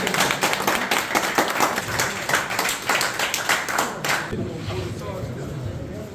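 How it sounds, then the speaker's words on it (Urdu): Loud, sustained rhythmic clapping from a seated crowd at a teachers' farewell event honouring retirees, dense and close for several seconds before thinning out toward the end. "ان کے لیے زوردار تالیاں"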